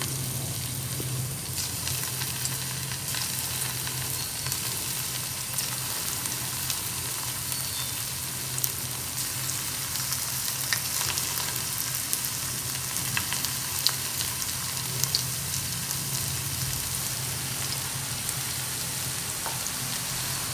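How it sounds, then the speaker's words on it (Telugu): Cauliflower pieces deep frying in hot oil in a kadai for gobi manchurian, a steady dense bubbling sizzle that holds evenly throughout, with a faint low hum underneath. "ఆయిల్ వేడైన తర్వాత వీటిని పకోడీలాగా వేసి వేయించుకుందాము."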